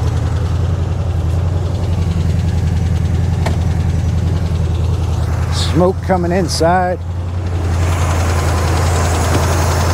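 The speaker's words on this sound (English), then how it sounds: "We got a little bit of racket coming from" A restored Corvette C3 engine runs loud and close with a steady low idle rumble and a rough, rattling racket, while people talk over it near the middle.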